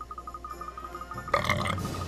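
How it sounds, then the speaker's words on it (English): One person lets out a loud, rough burp lasting about half a second while playing Ni No Kuni, following a stretch of quiet background game audio. "And that's the first burp of the video."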